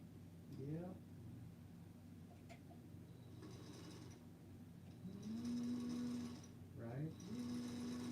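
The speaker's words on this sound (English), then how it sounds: "All right, Betsy, are you sewing yet?" Bursts of a Featherweight sewing machine running while quilting, its whirring motor and rhythmic needle clatter rising and stopping in short runs, fairly close, with people talking over it.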